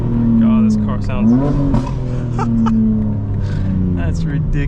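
900 hp 2025 BMW M4 Competition xDrive revving, its engine note climbing and settling while someone talks excitedly over it, close and fairly loud.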